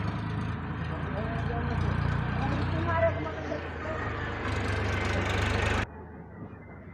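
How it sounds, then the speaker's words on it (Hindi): A tractor's heavy engine rumbles loudly close by and passes, running steadily for several seconds before cutting off abruptly, with someone speaking over it. "थोड़ा सा ट्रैक्टर आ गया था, वॉइस कैच कर लेता माइक"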